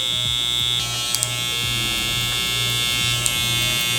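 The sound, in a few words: electric hair clipper buzzing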